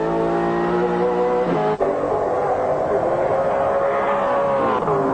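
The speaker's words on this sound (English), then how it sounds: "listen to Neil's engine there" A 1995 V8 Supercar at Symmons Plains is held at full throttle, a loud, sustained engine roar with harmonic whine. The pitch dips briefly as the car changes gear, then climbs again, under crowd-level track ambience.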